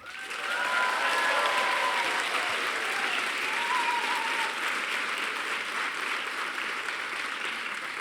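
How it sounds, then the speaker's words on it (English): An audience at a university baccalaureate graduation ceremony breaks into sustained applause, a dense, even wash of clapping that swells quickly and holds steady for several seconds. "One big round of applause."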